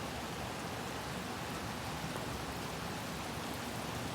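Steady rain falls outside a mosque in Cianjur, a constant, even hiss of drops on surfaces with no breaks and no voices.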